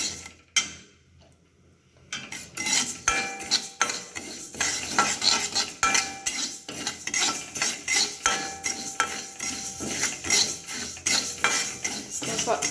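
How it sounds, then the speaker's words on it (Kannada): Moong dal dry-roasting in a pan is stirred with a utensil, giving a steady rhythm of close scraping and rattling with a faint sizzle after a brief quiet start. "ಫಸ್ಟ್ ಹುರ್ಕೋಬೇಕು ಹೆಸರುಬೇಳೆನ"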